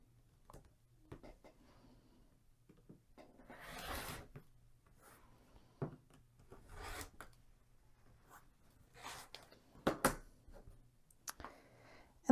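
Fabric is trimmed on a quilt block for a 15-inch Minnesota state pattern: quiet, scattered rasping cuts and rubs arrive in short bursts separated by near-silence, close and soft, with no talking.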